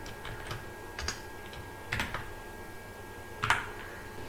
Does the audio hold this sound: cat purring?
no